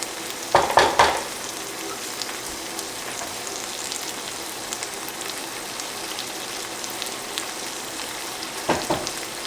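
Chunky tomato sauce bubbles in a pot as it comes to a quick boil, a steady close sizzling hiss, with a couple of brief clinks of stirring near the start and end.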